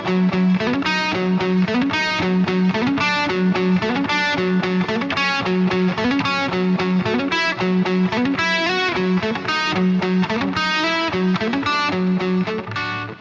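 Electric guitar through a Bogren Digital Legends of Rock Ampknob amp simulator with added reverb and delay plugins plays a driving, distorted riff with repeated rhythmic chugs and chords, loud and continuous without talk.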